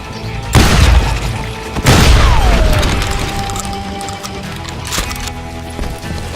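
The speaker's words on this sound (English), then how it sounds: "They're shooting in the street!" Gunfire in a video game street shootout, with two loud booming shotgun-like blasts near the start and a ricochet-like whine after the second, then a quieter shot around five seconds over a lingering rumble.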